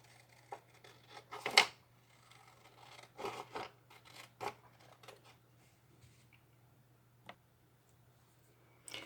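Scissors cut out a paper cutout for a craft, making a few soft, close snips and rasping paper strokes spread irregularly over a quiet stretch, with a steady low hum underneath.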